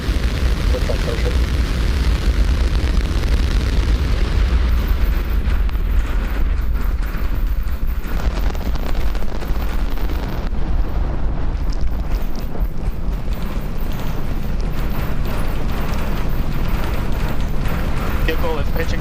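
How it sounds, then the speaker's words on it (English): A SpaceX Starship rocket lifts off, its 33 Raptor booster engines producing a continuous, heavy, crackling roar that fills the whole stretch, with an announcer speaking over the rumble. "Liftoff, Starship."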